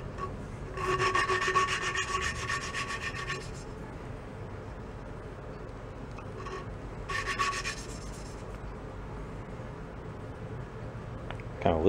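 Coarse-grit sandpaper rubs against a part in two distinct rasping bursts separated by a quieter pause, gritty and close, with faint background noise between strokes.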